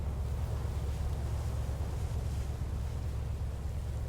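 Sea waves in the fishing video game Fishing: North Atlantic, a continuous heavy low roar of rushing water and wind, loud and steady without breaks.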